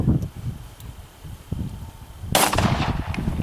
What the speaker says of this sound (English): Ghillie Sniper walks up and takes a shot. 150 yards.